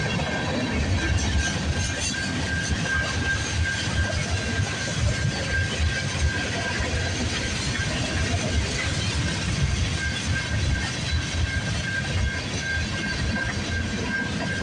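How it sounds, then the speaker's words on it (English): CN A421 freight train passing on a rainy, foggy morning, a steady loud rumble with rhythmic wheel clatter and a faint high squeal, continuous for the whole stretch with no talk. "Symbol on this train is CN A421."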